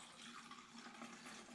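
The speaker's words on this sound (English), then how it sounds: "So I'm just gonna pour that in there." Car wash soap, diluted in a gallon jug, is poured into the tank of a Ryobi electric pressure washer, a faint, steady splashing trickle of liquid without any talking.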